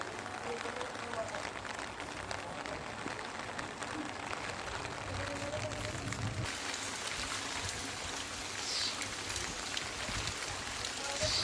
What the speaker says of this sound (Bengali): আজ ভোর থেকেই অনবরত বৃষ্টি হয়েই চলেছে।